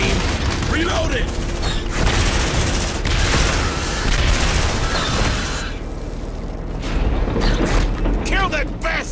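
An automated sentry gun and a squad's rifles fire in a busy Aliens: Dark Descent firefight, with dense overlapping bursts, mechanical clatter and booms nearly nonstop. Soldiers shout orders throughout the shooting.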